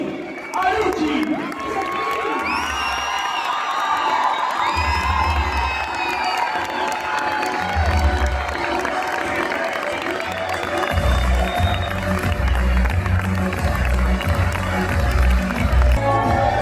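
Crowd at a friendly showmatch football game in Paraná cheers, whoops and shouts to welcome a player onto the pitch, a dense, loud, steady roar with scattered whistles and voices throughout.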